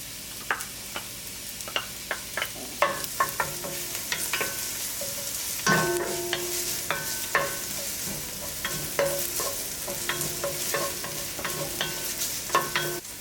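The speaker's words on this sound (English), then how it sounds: "So we need cooking oil, just a little bit. Let's put our onions." Onions frying in a little cooking oil, with a steady soft sizzle under frequent sharp scrapes and clinks of a utensil stirring the pan, close and fairly loud throughout.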